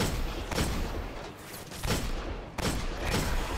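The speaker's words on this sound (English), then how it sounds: "You just saw a sniper shooting at me." Gunfire during a solo Nightfall strike on Winter's Run in the Destiny video game: a few sharp sniper-rifle cracks ring out at intervals over dense, noisy game ambience.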